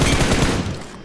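Rapid automatic gunfire in the video game PUBG Mobile, a loud, dense burst of shots that fades quickly, with no talking.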